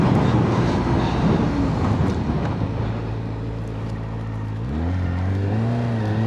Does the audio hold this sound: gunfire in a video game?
no